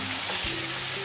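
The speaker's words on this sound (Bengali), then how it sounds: "চিকেন খুব ভালো করে কষানো হয়ে গেছে দেখো। চিকেন দিয়ে তেল ছেড়ে দিয়েছে দেখো" Chicken sautéing in the oil it has released, a brief, close, continuous sizzle with a soft stir in the middle and a low hum underneath.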